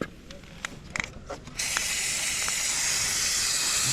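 Liquid grease lubricant sprays onto a motorcycle chain in a steady, loud aerosol hiss lasting several seconds, preceded by faint handling clicks and taps.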